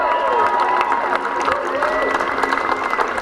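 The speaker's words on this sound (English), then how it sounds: "Hey, how about another round of applause for Senator Bob Casey?" An outdoor healthcare rally crowd in Scranton applauding Senator Bob Casey, sustained dense clapping and cheering with crowd voices mixed in, loud and continuous throughout.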